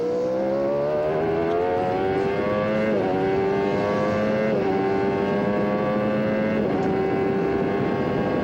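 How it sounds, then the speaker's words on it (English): An IndyCar race car engine at Mid-Ohio screams at high revs and drops pitch sharply with each of several upshifts, loud and continuous with no talk. "You can also hear a different sound to Rahal's car."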